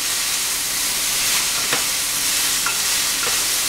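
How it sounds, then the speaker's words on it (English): Food sautéing in a pan with pepper, for a garlicky asparagus chicken roulade, giving a steady, close frying hiss throughout with a few faint utensil clicks and no talking. "So I'm just sauteing them for a minute"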